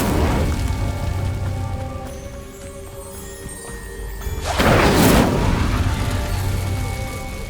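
An Incendio fire spell goes off in Hogwarts Legacy as a dense roaring whoosh over steady game ambience, swelling into a louder burst about two-thirds through and then easing back down.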